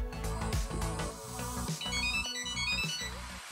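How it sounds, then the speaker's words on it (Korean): A Samsung Galaxy SmartTag rings to locate a hidden tag, with a repeating electronic ringtone melody sounding over a busy background of music. "스마트 태그가 숨겨져 있으면 소리 울리기 아이콘을 선택하여 태그에서 소리가 울리도록 할 수"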